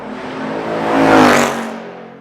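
A Ford Mustang Mach 1 with a 5.0 V8 revs and passes in a tunnel, its loud engine note swelling to a peak midway and then fading as it moves off, echoing off the walls.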